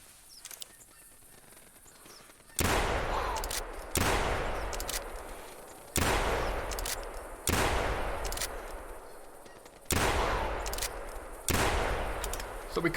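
Six loud, sharp shotgun blasts fired at a bunched flock of birds in Call of the Wild hunting game, spaced a second or two apart, each with a long fading echo, followed by honking goose calls in the distance.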